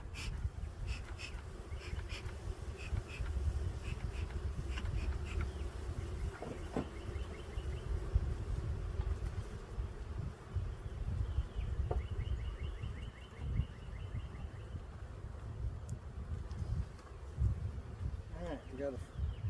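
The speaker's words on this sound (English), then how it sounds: "I got a bunch of bees staring at me" A low, continuous buzz of many honey bees around a hive hums close by, with faint rustling and occasional louder passes of individual insects.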